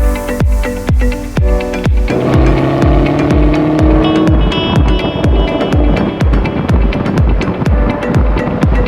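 A Chevrolet Camaro 1LE drives with a loud engine note and a regular rhythmic thumping like tires over road seams, the engine tone climbing as it accelerates and then holding steady.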